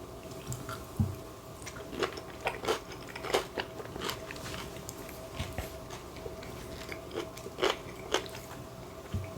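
Someone eats taco soup topped with tortilla chips, giving repeated crisp crunches and chewing at irregular intervals, close up with no talking.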